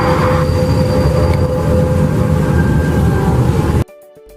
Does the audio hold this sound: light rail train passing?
yes